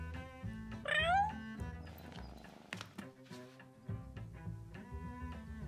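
A cat in the video game Behind the Frame gives one short, clear meow that rises and falls, heard over soft in-game music and small interface sounds.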